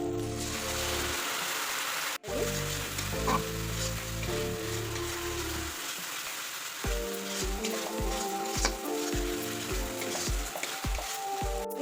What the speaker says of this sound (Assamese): অলপ টাইম ভাজি ল'ম, 2 মিনিটমান